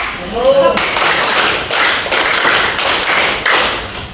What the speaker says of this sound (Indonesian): Tepuk 3 kali.